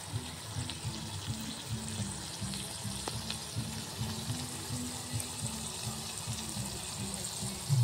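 Small-fish chorchori, a Bengali dish, bubbling in a pan with the lid lifted, making a soft, steady simmering hiss with dense, quiet popping throughout.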